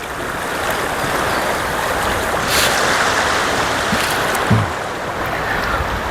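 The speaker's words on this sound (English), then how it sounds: "if you just want the sound of the water flowing in the camp spot" Swift water rushes through a forest stream beside a campsite in the Ouachita National Forest, a steady, close, full-bodied flow with no voices.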